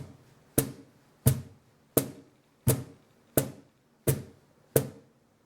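Seven sharp, even strikes on a cajon mark out a rock beat at a steady moderate pace, each hit punchy and close with a short decaying ring, with no talking.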